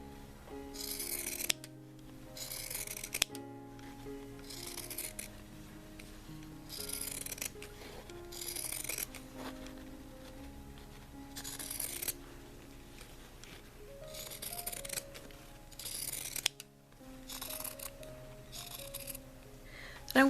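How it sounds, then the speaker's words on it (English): Pinking shears snip through fabric at close range in a series of short, crisp cutting bursts separated by brief pauses, with faint handling rustle between cuts. "now I'm going to take pinking shears and cut all the way around it"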